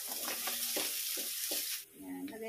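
Garlic and onion sautéing in a pan for squid ink seafood rice, a steady hiss of frying with several scraping stirs, close and fairly loud.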